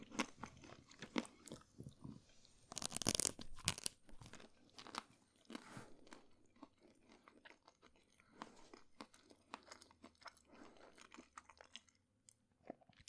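Close-up crunchy chewing of a frozen Jaffa cake, one loud bite early on followed by softer, irregular chewing crunches.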